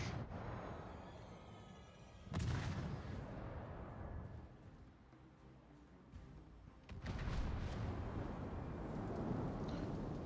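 Naval gunfire hits a ship in World of Warships, with two heavy booming impacts, one about a third of the way in and another past the midpoint, each followed by a long rumbling tail at moderate loudness.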